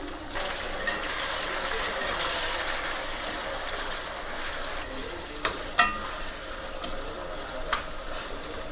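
Tomatoes sizzle and fry in a pan for an Andhra-style sea crab curry, a steady close hiss with occasional stirring clatters and scrapes of a utensil against the pan.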